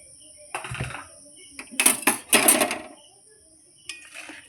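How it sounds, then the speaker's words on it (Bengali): Lid of a glass jar of sweet mango pickle being opened, with a few clinks and scraping clatters in quick succession, close and fairly loud, with someone talking around them. "আমি ঢাকনা খুলে দেখে নিচ্ছি"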